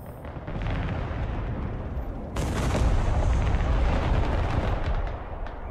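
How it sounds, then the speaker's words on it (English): Heavy artillery barrages and explosions thunder in the Broken Arrow war game, a dense, continuous rumble of blasts that swells louder partway through and stays close and overwhelming. "Ooh, they got a lot of artillery."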